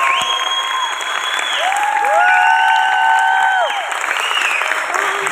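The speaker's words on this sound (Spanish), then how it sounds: "Un aplauso más fuerte." Loud, steady applause from a crowd at an event honouring young people, with cheering voices and drawn-out whistle-like tones riding over the clapping throughout.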